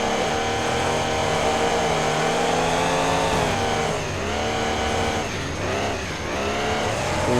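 Monster trucks racing in the BeamNG driving game, with loud, continuous diesel engines roaring and revving close by, their pitch rising and dipping as they accelerate and shift, tires squealing, no speech.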